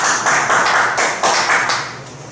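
A church congregation claps loudly and close, a dense burst of many hands with rhythmic swells that eases slightly toward the end.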